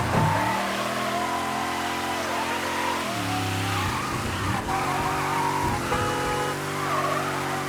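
A car in the video game Mafia III pulls up and parks, its engine revving and dropping in pitch as it slows, with a brief tire squeal near the end; close and steady, no one speaking.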